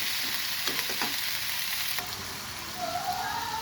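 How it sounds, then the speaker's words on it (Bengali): Okra seasoned with turmeric and salt sizzles in hot oil, a constant close crackle with a couple of quick utensil taps near the start. "এখন এই ঢেঁড়সটা দিয়ে দিলাম হলুদ লবণ দিয়ে দিয়েছি সামান্য খুব সুন্দর করে এটা ভেজে নেবো"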